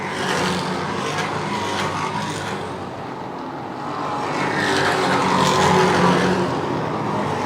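Stock cars roaring down the back straightaway at a Lee USA Speedway race, a dense, continuous engine drone that swells as the pack sweeps past, loud and steady throughout with no talk.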